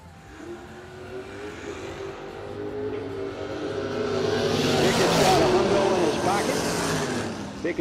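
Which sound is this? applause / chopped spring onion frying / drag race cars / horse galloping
drag race cars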